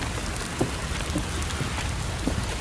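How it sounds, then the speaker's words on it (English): Heavy rain pouring down outdoors, a steady dense hiss of drops striking surfaces with a few louder close splats, with no voices. "We got rain."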